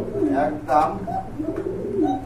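A pair of pigeons, a female and a male, coo softly in short rounded phrases at a pigeon seller's, partly buried under close conversation between people.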